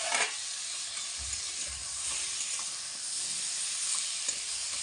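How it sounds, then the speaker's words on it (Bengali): Washed, cut potatoes fry in a hot wok (karai) with a steady, bright sizzle and occasional scraping stirs, close up and continuous without talk. "তো বন্ধুরা আলুটা আমি দিয়ে দিচ্ছি।"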